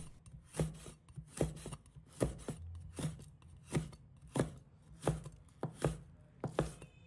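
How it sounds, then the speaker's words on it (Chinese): A knife chops small red bird's eye chilies on a cutting board, steady rhythmic strikes about every half second, close and distinct with no talking. "几个小米辣，把它切成小片"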